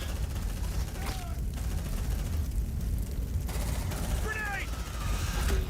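Suppressive gunfire in an alien-fighting video game: dense sustained automatic firing rattles continuously and loud throughout, with a few short higher chirps and bursts layered over the constant barrage.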